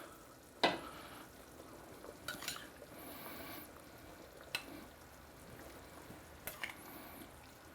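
Lamb in yogurt marinade sizzling in a pan, a soft continuous sizzle close by, punctuated by a few sharp utensil clinks against the pan, no voices.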